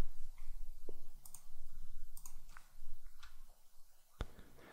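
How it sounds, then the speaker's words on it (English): Keyboard arrow keys tapped in a quiet room, a handful of faint, sparse clicks at irregular intervals with one sharper, louder click near the end, no voices. "when I hit the arrow keys"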